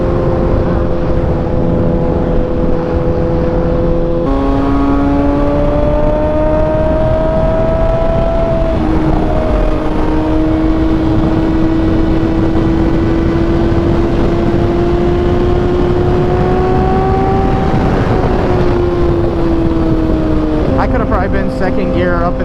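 A Kawasaki ZX6R sportbike revs hard and climbs through the gears, its engine whine rising in pitch, dropping at each shift, then rising again, loud and close with steady wind roar behind it.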